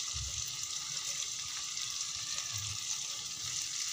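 Water chestnuts (singhara), onion and ginger frying in a pan, a close, even sizzle with faint stirring, steady for a few seconds.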